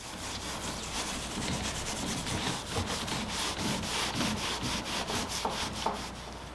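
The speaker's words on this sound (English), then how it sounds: "I'll check to see if this is lacquer by applying lacquer thinner, then scrubbing with fine steel wool" Fine steel wool scrubs a lacquered oak workbench surface close up with continuous, loud back-and-forth rubbing strokes, with no voices.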